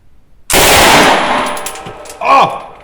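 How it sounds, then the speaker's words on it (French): An Uzi submachine gun fires a loud, rapid full-auto burst at close range, followed by a shorter second burst with metallic clatter. "Donc je vais essayer de faire des rafales courtes."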